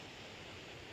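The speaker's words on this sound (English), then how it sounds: "Found a little waterfall." A small waterfall on the John Muir Trail near Muir Pass in the Sierra gives off a steady, dense rush of falling water, close and even throughout, with no voices.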